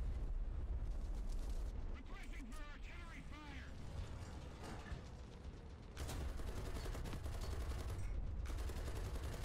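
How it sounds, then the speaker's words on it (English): Artillery strike in the War Thunder tank game, with continuous rumbling blasts and booming impacts under engine noise, a sharp burst about six seconds in, and a voice talking over part of it. "Artillery strike."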